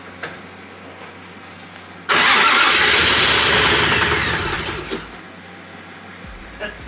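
A built 1JZ engine swapped into a Nissan 350z cranks and fires for its first start-up, bursting into a loud, rough, rumbling idle for about three seconds before cutting out, with quieter background noise before and after.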